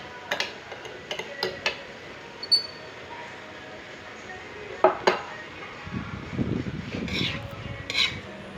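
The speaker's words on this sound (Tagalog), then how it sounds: "halo-haluin lang po hanggang mag-mix yung itlog na nilagay natin sa gulay" Beaten egg is stirred into sautéed bitter gourd in a pan, with scattered close utensil clicks and taps against the pan and a soft sizzle rising toward the end.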